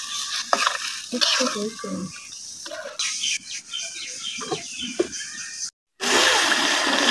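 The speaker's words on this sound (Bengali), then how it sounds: "মাংসগুলো কত সুন্দরভাবে কষানো হয়ে গেছে" Meat being sautéed and stirred in a pan, with intermittent scraping and sizzling bursts, faint bird chirps in the background and a short silent gap near the end.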